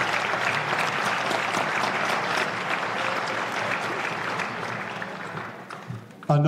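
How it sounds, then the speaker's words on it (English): Concert audience applauding at a symphony orchestra holiday pops show, a full, sustained wave of clapping that thins slightly toward the end before a voice cuts in. "Another round of applause for Willie Wilson, please."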